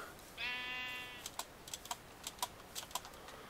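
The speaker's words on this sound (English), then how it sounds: "Just a brown sheep." A single brown sheep bleat sounds in a video game, followed by a series of soft, evenly spaced clicks in an otherwise quiet space.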